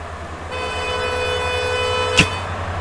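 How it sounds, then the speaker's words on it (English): A sustained car horn blast in the Roadcraft video game, holding steady for about two seconds over a low engine rumble before ending with a short click. "You're honking at me?"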